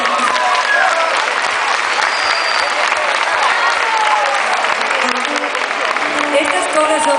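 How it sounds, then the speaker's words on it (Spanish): Concert audience at a show in Culleredo applauding steadily, a dense, loud, continuous clatter of many hands that holds at full strength throughout with no pause. "Un aplauso para él,"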